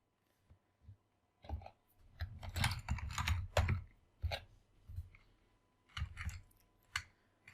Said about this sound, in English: we'll type the password.